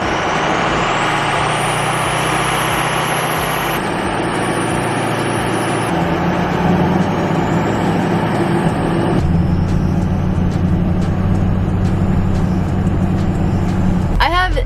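A Ford 6.0 diesel truck engine with a modified air filter drones steadily as it drives, its pitch stepping through gear changes, with turbo whistle riding above; someone talks over it.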